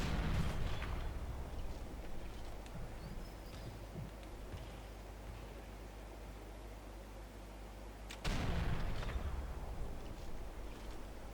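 Distant sniper rifle shots in Sniper Elite 4 at a monastery, heavy booming reports rolling out over steady noise, one near the start and another sharp blast around eight seconds, each trailing off in a long echo.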